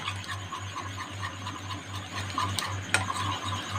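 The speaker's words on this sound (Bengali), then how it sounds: "বাটিতে আমি কিছুটা দই নিয়ে নিয়েছি এটাকে একটু ভালো করে ফেটিয়ে নিলাম" Yogurt (sour curd) being whisked in a bowl, giving a steady run of soft rhythmic scraping and tapping strokes close by, with a few sharper clinks of the whisk against the bowl.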